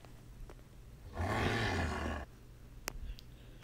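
A video game creature lets out one loud, full-throated roar of about a second, close and alone, then quiet ambience follows with a brief click.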